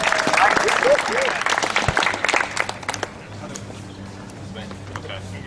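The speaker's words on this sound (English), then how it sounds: "Let's give a big round of applause to Adam" Outdoor rally crowd applauding after a post-meeting speaker, dense clapping with a few voices and whistles in the first three seconds before fading to quieter murmur.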